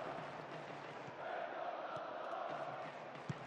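Steady stadium crowd roar from the football video game PES 2010, a continuous broad wash of massed voices that swells slightly midway and holds at a constant distant level, with no clear talk over it.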